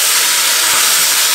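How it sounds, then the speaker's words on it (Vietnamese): Chicken pieces stir-frying over medium heat in a pan for a Vietnamese curry with sweet potato, a steady loud sizzling hiss, close and continuous with no talking. "Tiếp tục xào cho thịt gà rám vàng nha"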